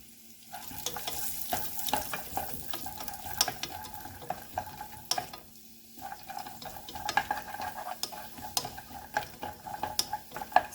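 Cashew nuts frying in a pan, a steady soft sizzle broken by irregular scraping and stirring clicks throughout, close by with no one talking.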